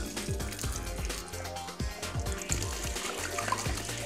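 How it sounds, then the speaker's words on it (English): Water pours from the recovery tank hose of an Admiral carpet extractor, a steady close splashing flow with some gurgling and irregular bursts throughout, no talk. "To empty the recovery tank, just grab the recovery hose, hold it tight to control the flow, and empty it."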